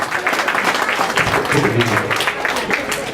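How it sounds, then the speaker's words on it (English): Clapping from diners at a student success dinner, a round of applause from a moderate crowd, loud and continuous, with a voice briefly heard underneath. "can we give them a round of applause?"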